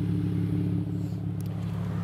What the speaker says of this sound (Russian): Две выхлопные трубы напрямую без глушителя, звучит прекрасно